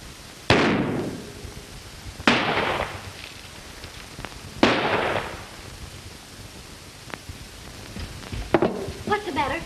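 Gunshots in a 1933 western film, several sharp loud cracks spaced a couple of seconds apart, followed by a quicker burst near the end over a noisy old soundtrack.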